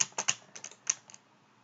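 Single key on a computer keyboard pressed repeatedly during a Scratch programming tutorial: about half a dozen sharp, close clicks in quick irregular succession, then fading into quiet.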